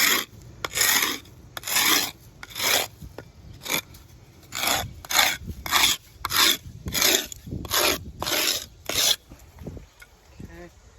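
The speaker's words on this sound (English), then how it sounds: "I'm gonna keep using this wood and I'm gonna scrape off all this stuff right here" Wood scraped in repeated strokes over the rough rock surface of a porch, about a dozen rasping passes in a steady rhythm, close and fairly loud, with no one talking.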